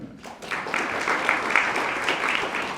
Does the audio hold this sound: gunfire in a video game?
no